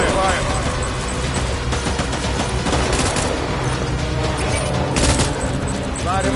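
Dense, continuous gunfire fills the whole stretch, heavy rapid shots overlapping with booms and a steady rumble, loud and close throughout.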